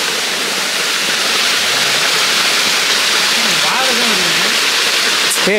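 Steady broadband rush of a waterfall along a forest trekking trail at Kuttu Patti Falls near Natham, Dindigul, continuous and close, with faint voices talking underneath.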